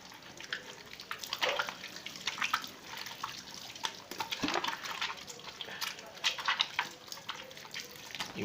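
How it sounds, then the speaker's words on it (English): Hands being washed with soap under a running tap, a soft continuous splash of water with small irregular spatters and drips, fairly quiet and close, with no one talking. "under running water and with soap, what I do is I wash my hand again"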